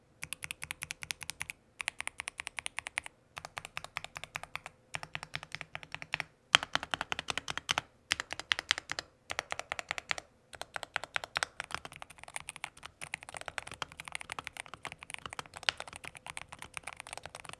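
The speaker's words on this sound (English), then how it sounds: "The stabilizers here do have some rattle, but they are unlubed and ungreased, so with a little bit of effort, you can make this keyboard sound so much better." A gaming keyboard with PBT keycaps and unlubed stabilizers is typed on steadily, with dense, fast, close-up clacking in bursts broken by short pauses and occasional heavier spacebar thuds, quiet and without talk.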